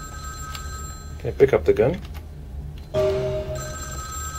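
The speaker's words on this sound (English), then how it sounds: "there's a telephone ringing somewhere" Telephone ringing in the video game Vampire: The Masquerade - Bloodlines, a repeated electronic bell tone in separate bursts, mixed with game sounds and someone speaking.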